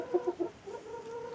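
Soft, low clucking from a molting laying hen, a few short rhythmic clucks followed by quieter murmuring, close by and with no speech.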